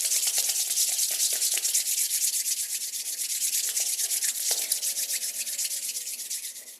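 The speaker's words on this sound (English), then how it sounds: "gently rubbing your hands together" Gentle, steady dry rubbing of hands together, a continuous soft brushing hiss that holds close and even throughout with faint irregular strokes, no talking.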